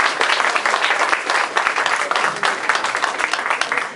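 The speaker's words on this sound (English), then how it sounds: "Please, a round of applause for Mrs. Cuccinelli." An audience at a Dipawali community celebration applauds warmly, a dense, close wash of many hands clapping steadily for several seconds.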